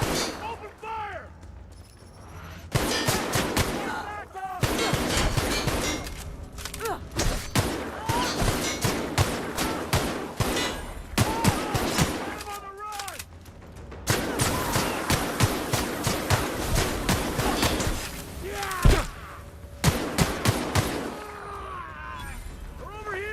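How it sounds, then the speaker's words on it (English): Rapid bursts of gunfire in The Outer Worlds video game, repeated volleys of sharp shots in clustered runs with brief gaps, loud and close throughout. "Open fire!"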